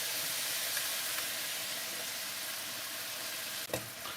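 Balsamic vinegar hits a pan of vegetable stir fry with chopped garlic, giving a steady loud sizzle and hiss cooking on low heat, broken near the end by a brief clatter.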